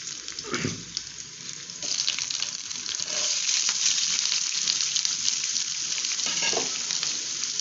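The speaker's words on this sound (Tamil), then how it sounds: "வெங்காயம் பூண்டு அதெல்லாம் நம்ம எடுத்து போட்டுக்கலாம் பச்சை மிளகாய் போட்டுக்கலாம்" Onion, garlic and green chili hit a hot pan for a spinach stir-fry, raising a dense sizzling hiss that grows louder after the first seconds. A few knocks and clatters of utensils come early and again near the end.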